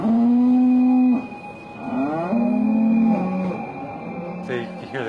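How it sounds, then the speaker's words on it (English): Cows bellow loudly and close by, several long, drawn-out moos following one another with brief pauses between them. "They can hear the cows, they're bellowing and stuff when they go in."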